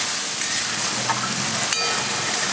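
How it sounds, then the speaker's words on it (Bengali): Onion and garlic paste frying together in a pan for a tarka curry, a loud steady sizzle and hiss of hot oil that carries on without a break, heard close up with no talking. "পেঁয়াজ আর রসুনটা একসঙ্গে আমি একটু লাল করে ভেজে নেবো"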